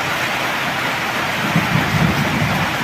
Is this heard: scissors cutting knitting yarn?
no